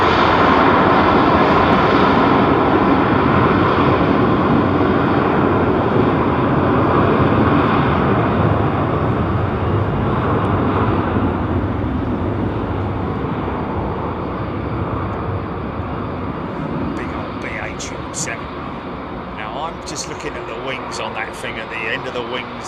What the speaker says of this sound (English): so I'm thinking that's a 777-200